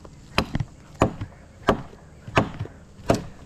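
A hatchet chopping a piece of wood outdoors, five sharp, close woody thwacks spaced at a steady pace about two-thirds of a second apart, each followed by a brief smaller knock.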